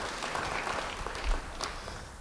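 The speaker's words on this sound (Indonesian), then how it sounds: "Beri tepuk tangan buat Roh Kudus." Applause from a church congregation fills the space, a dense and continuous patter of many hands clapping at a steady level, somewhat distant, with no speech on top.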